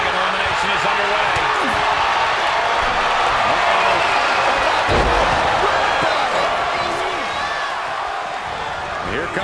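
Arena crowd in WWE 2K24 during a 30-man Royal Rumble match, a dense continuous roar of cheering filling the space, with a sharp slam partway through and a commentator talking over it.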